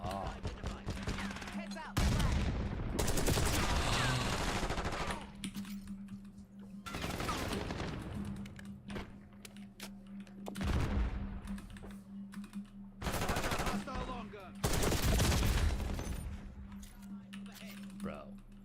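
Video game gunfire crackles in bursts of rapid shots, loud and close, separated by brief lulls, with game sounds and voices mixed in.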